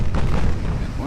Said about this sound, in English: And one of the torpedoes hit.